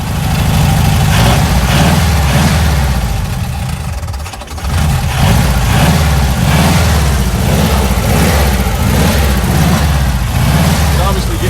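A Frazer Nash car engine, long unused, idles loudly and close by on its own, a rough, steady low rumble that dips briefly partway through before settling back into its even beat.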